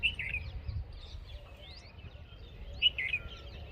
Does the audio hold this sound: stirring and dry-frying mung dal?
no